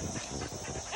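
Rabbit-hunting hounds at a dog camp make a short, low dog sound in a continuous noisy outdoor background.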